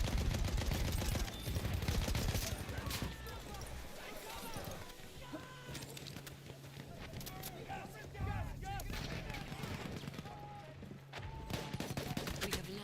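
Rapid gunfire and explosions from a Battlefield 1 match roll on continuously and loud, with a dense battlefield din under overlapping player chatter.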